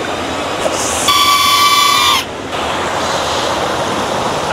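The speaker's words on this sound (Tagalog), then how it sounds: "Sarap talaga nung lagaslas ng tubig sa tenga." Rushing water of a waterfall in Laguna, a steady, loud, broadband roar that continues throughout, with a brief higher whistling tone partway through.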